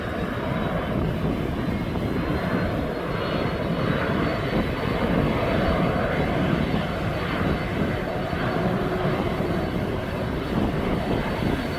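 An airliner's engine runs steadily on a stand at East Midlands Airport, a loud, continuous roar and whine that holds level throughout with no pauses.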